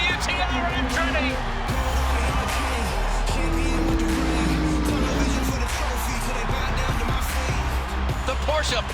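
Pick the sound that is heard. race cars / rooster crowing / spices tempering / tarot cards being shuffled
race cars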